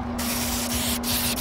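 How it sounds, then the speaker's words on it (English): Spray paint hisses steadily onto a fishing lure in raw umber and pearl white, applied from a distance at an angle, with a short break near the start and another brief gap partway through. "I'm backing up pretty far and I'm just gonna come in at this angle but spray the whole thing."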